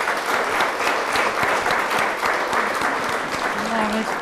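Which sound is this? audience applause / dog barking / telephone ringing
audience applause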